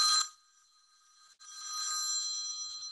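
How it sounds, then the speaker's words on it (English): A telephone bell ringing, clear electronic ring bursts with a short gap between them, loud and alone with no talk. "your phone's actually ringing."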